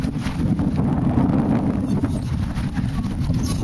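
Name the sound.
wind blowing outdoors on a boat trip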